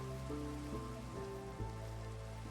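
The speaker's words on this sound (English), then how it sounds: "I just love the rain." Rain falls steadily in the video game Minecraft, a soft, even patter that fills the whole stretch under low, sustained game music tones, with no talking.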